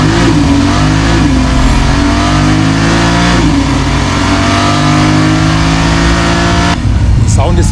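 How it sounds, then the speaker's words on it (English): Porsche engine revving loudly and continuously, rising and falling in pitch with a harsh, steady roar that fills the whole stretch, close by and dominant. "Do you want to see the engine in action?"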